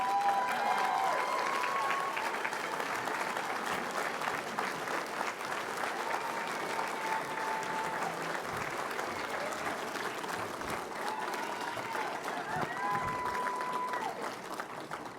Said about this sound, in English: Help me give a nice round of applause